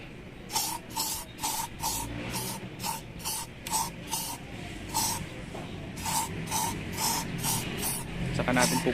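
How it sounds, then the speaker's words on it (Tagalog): Koby protectant spray is sprayed onto a motorcycle in about a dozen short, close hissing bursts at a steady rhythm, with a voice faintly present in the background. "Dito tayo mag-spray."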